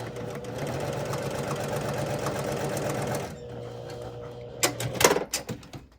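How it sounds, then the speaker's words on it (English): A sewing machine stitches quilt pieces together in a fast, even mechanical rhythm for about three seconds, then stops and gives a few sharp clicks and clunks as the fabric is adjusted. "I'm just going to sew those together first of all."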